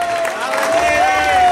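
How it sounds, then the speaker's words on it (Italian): An audience applauds at the presentation of the Ventimiglia football club's first team, with steady clapping and crowd noise under a sustained voice or tone throughout the short burst. "25esimo, ragazzi, applauso."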